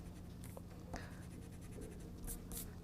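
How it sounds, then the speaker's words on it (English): Pencil eraser rubbing over hand-drawn lettering on paper, a soft continuous scratchy friction with brief louder strokes, close up and steady with no talking. "Let me erase this for you guys."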